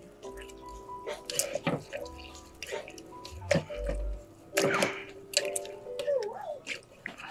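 A quarter of a large grapefruit is squeezed by hand for lemonade, giving irregular wet squishes and drips that come in short bursts close to the microphone.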